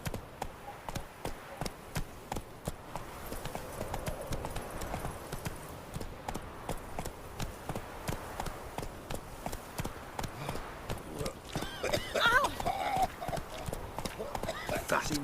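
Roach the horse in The Witcher 3 walks on hooves with a steady, even clip-clop rhythm throughout, moderately close. A brief whinny-like sound comes near the end, and a voice speaks over the hoofbeats.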